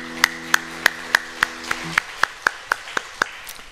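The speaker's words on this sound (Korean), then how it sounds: "우리 주님께 영광의 박수 드리겠습니다" A church congregation at a Friday worship service claps in unison, a slow steady beat of about a dozen sharp, evenly spaced claps, with a low organ-like tone fading out partway through.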